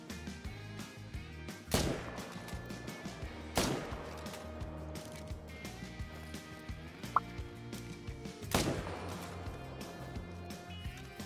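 Three sharp, distant-sounding rifle shots at steady intervals ring out in a Call of the Wild hunting video game, each followed by a short fading echo over a quiet outdoor ambience.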